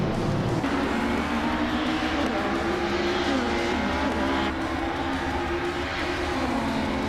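A pack of race cars roars off the line in a racing video game at Highlands, led by a 1996 Peugeot 406, their engines blending into a steady, loud, continuous drone.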